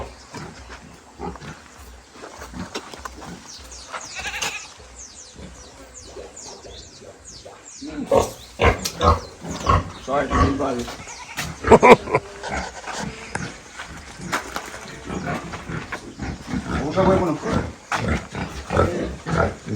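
Pigs grunting and squealing in a noisy pen on a demonstration farm in Katosi, Uganda, with people talking intermittently over the animal sounds.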